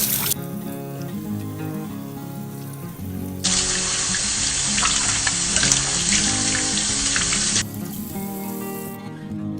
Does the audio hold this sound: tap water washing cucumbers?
yes